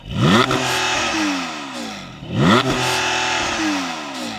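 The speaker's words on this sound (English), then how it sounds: "Nick, let's have a listen to the Porsche." A Porsche Boxster GTS sports car engine revs hard twice, each burst climbing sharply to a soft limiter then dropping back, loud and close with no talking.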